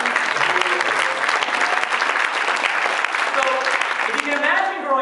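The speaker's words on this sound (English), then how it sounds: "You guys give these people a big round of applause." An audience at a business talk in Portland, Maine, breaks into sustained, dense applause, with clapping filling the room and voices and cheers mixed in toward the end.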